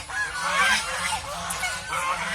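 A cluster of domestic geese keeps up a continuous chorus of honks, harsh overlapping calls at close range, fairly loud and steady throughout.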